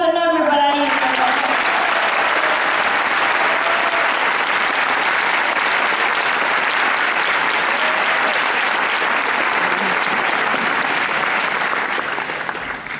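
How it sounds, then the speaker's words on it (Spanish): Concert crowd applause at a Dragon Concert show with a symphony orchestra and rock band in Concepción, Chile, heard as dense, steady clapping and cheering from a large audience that holds loud throughout, with a brief voice at the start. "¡Un aplauso enorme para ellos!"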